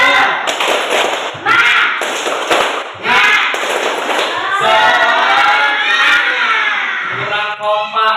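A group of people claps a rhythmic spirit clap (tepuk semangat) in a patterned sequence of sharp synchronized claps, then breaks into loud cheering and voices at the end.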